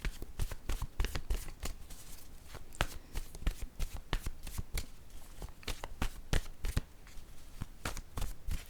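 Tarot or oracle cards being shuffled and drawn for a card reading, a close run of quick riffling flicks and snaps repeating in bursts throughout, with no talking.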